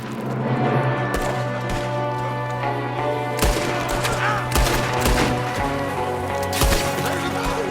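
Gunfire in the video game Red Dead Redemption 2 rings out as scattered, loud shots and short volleys over a steady hum, with louder reports toward the end.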